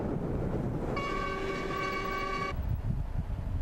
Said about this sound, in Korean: 시안을 벗어나자마자 우르무치로 향하는 열차가 함께 달린다